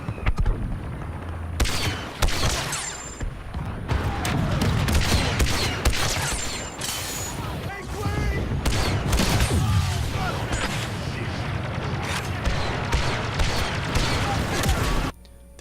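Rapid blaster rifle fire in Star Wars Battlefront 2, dense bursts of sharp repeated shots with booms and explosions layered through a battlefield mix, loud and nearly continuous for about fifteen seconds.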